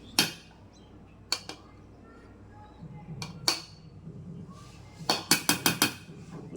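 A metal spoon clinks against a pot while ghee is added to a sweet dish on the stove, with scattered sharp clinks and a quick burst of several taps near the end over a quiet room background.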